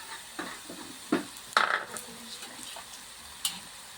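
Curry leaves go into onions frying golden in a pan for egg bhurji, a faint sizzle under a few sharp stirring clinks and scrapes close by, with no voices.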